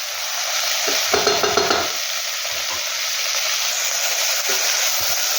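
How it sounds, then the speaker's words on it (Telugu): Chopped medium-size tomatoes sizzle steadily in a hot pan, a loud, continuous hiss broken by a short burst of stirring scrapes, with no voices. "టమోటాలు మెత్తబడేంత వరకు మగ్గించుకుందాము."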